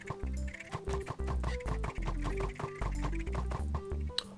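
Video game chickens popping out of thrown eggs, with repeated short clucking and squawking bursts in a quick, busy rhythm over steady game music, loud and close, with no talk.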